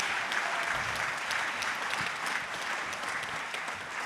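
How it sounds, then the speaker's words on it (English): An audience applauds students after a mock congressional hearing, steady dense clapping sustained throughout at moderate level with no voices standing out. "Students, let's give them another great round of applause."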